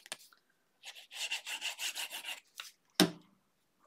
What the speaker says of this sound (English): I'm going to go ahead and fold and burnish all of those little sides